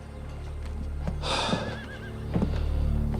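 A horse whinnies loudly once in a Wild West street setting, a rising, quavering neigh, with hoof clops and low ambient rumble around it.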